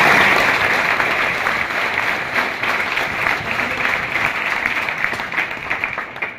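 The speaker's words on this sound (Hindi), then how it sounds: "हम पूरे अकेडमी परिवार की ओर से तालियां बजाकर उनका हार्दिक अभिनंदन" An academy audience in Mahendergarh applauds a visiting legislator with a continuous, thick wash of clapping from many hands that stays loud and even, easing slightly toward the end.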